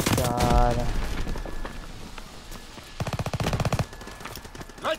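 Machine gun fire in Call of Duty WWII multiplayer, a rapid rattling burst of shots near the start and a longer fast automatic volley midway, amid game noise and a shouting voice.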